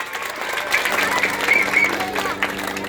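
Applause from a village gathering at a government outreach event in Kaithi gram panchayat, honoring the village head; steady crowd clapping mixed with murmuring voices and a faint whistle, moderately loud throughout.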